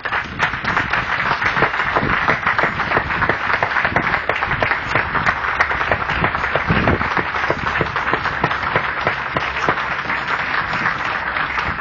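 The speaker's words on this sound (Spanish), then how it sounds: "Dale un aplauso al Señor." A church congregation applauds during a service, with dense, sustained clapping from many hands that continues steadily throughout.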